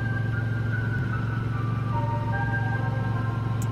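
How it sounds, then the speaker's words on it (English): A blue car in a Roblox game, a steady engine drone with a low, even hum and faint tonal whine, continuous and moderately loud with no voices. "Oh, I hear something. A car. A blue car."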